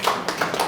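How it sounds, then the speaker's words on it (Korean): Audience applause in a lecture hall during a university lecture, heard as a brief, fairly close patter of a few hands clapping that ends almost as soon as it starts. "박수 한번 줘주세요"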